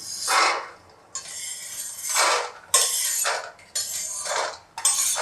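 Roasted peanuts being scraped and poured from a pan onto a plate, a series of about five rattling, clattering bursts with short gaps between them, close and fairly loud, with no talk.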